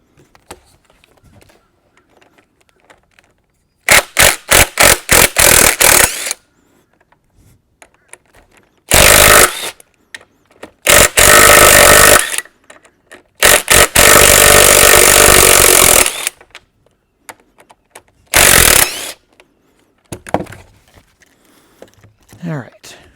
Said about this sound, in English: We're going to use an impact wrench for this one.